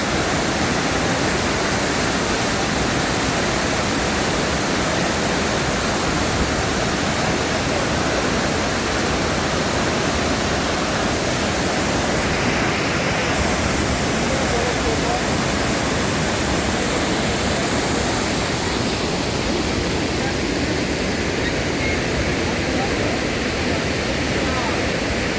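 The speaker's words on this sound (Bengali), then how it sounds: "তাই এখন শুধু আপনারা জলপ্রপাতের শব্দ শুনুন আর দেখুন" A waterfall near Ranchi roars steadily, a loud, unbroken wash of falling water that fills the whole stretch without pause.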